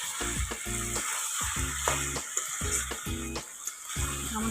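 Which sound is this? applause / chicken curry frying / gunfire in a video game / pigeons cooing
chicken curry frying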